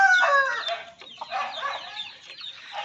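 A pet rooster clucks in a run of close, busy calls with brief pauses, loud and clear with no talk over it.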